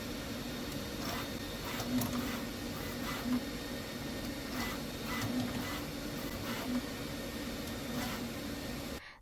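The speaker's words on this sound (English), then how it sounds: "First, it will try to attach each tool head to make sure they were installed correctly." Snapmaker U1 four-toolhead 3D printer calibrating and attaching each tool head: a continuous mechanical whir and hum with a soft pulsing rhythm of motor movements and faint periodic clicks, steady and fairly close throughout.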